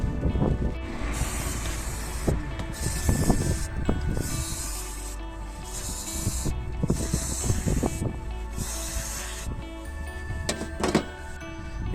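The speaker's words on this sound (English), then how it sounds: "So here's how he cleaned it for me, using just general brake cleaner." Brake cleaner hisses from an aerosol can in repeated bursts of a second or so onto a Nissan throttle body, with clicks and handling noises between sprays, close and fairly loud.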